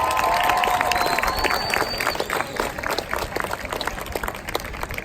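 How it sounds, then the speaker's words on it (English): Audience applause for a staff member at a middle school promotion ceremony, a dense wash of clapping hands that starts loud and gradually thins out over about five seconds, with no talking over it. "Let's give Ms. Toussaint a round of applause."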